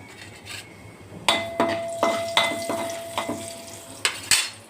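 Mustard seeds and turmeric crackle and sizzle in hot oil with dried red chillies, tempering for a curry leaf rasam, with a run of sharp pops and spatula clinks over a steady frying hiss, close up.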